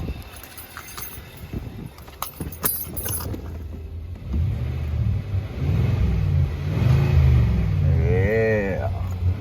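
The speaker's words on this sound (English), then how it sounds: "Let's go get the engine a little bit. See what it sounds like, or hear what it sounds like." Keys rattle and click, then the V8 of a 2024 Nissan Titan Pro-4X XD pickup rumbles in close up, climbing in pitch as it is revved toward the end, with some talk in the background.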